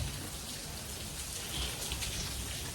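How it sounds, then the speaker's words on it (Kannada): Heavy rain pours down steadily at close range, a dense continuous hiss of drops striking surfaces around a home, with no voices over it. "ಸಿಕ್ಕಾಬಟ್ಟೆ ಮಳೆ ಹುಯ್ತಾ ಇದೆ"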